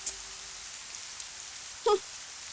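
Soft, steady rain patters faintly over a quiet background, with one brief louder knock near the end.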